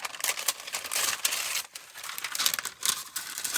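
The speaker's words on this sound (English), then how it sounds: "I absolutely love this tracing paper, but it is a bit noisy." Sheets of tracing paper crinkle and rustle by hand during collage work for journal cards, a dense stream of close, crisp crackles with short pauses and no talk.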